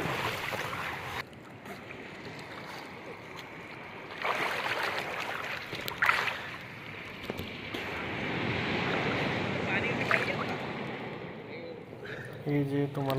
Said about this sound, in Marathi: लाटा सध्या शांत आहेत, जास्त येत नाहीत आलेले